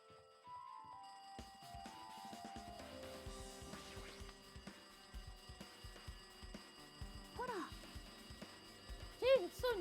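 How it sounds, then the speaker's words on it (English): Telephone ringing in the video game Danganronpa 2, a repeated electronic ring over game music and sound effects, with a voice speaking partway through. "It looks like the phone is ringing."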